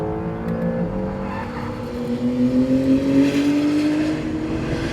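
An Acura NSX hybrid sports car at full throttle, its engine note climbing steadily in a continuous rising drone, fairly loud and near, with no one talking.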